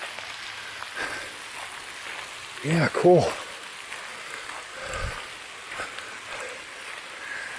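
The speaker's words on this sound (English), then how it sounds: "Yes, folks, it's raining pretty good." Rain falling steadily outdoors beside collapsed mine structures at the Patterson Mine tunnel, a constant soft hiss with a few louder splashes, while someone speaks briefly nearby.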